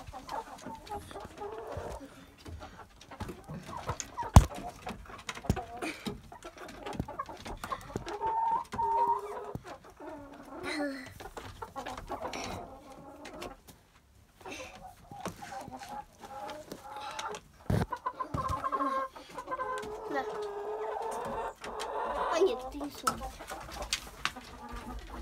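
Hens and a rooster cluck and coo in a chicken coop during egg collection, with scattered close calls and rustling throughout and voices speaking intermittently nearby.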